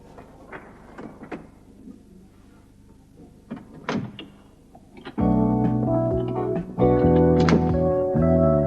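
A household radiator bangs and knocks, with scattered sharp thumps at first, then loud, sustained metallic clanging and rumbling in the pipes.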